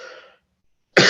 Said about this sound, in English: Sorry about my my repeated coughing.